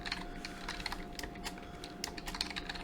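Someone types a password on a computer keyboard, producing quick, irregular clicking keystrokes that are close and fairly quiet, with a faint steady electronic tone behind them and no talking.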